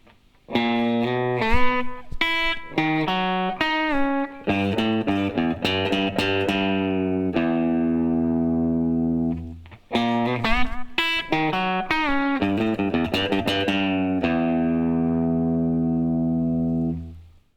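Electric guitar plays a quick country lick of clipped, bright notes, then a sustained chord, and the phrase repeats a second time.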